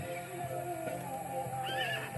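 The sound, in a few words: horse neighing on a farm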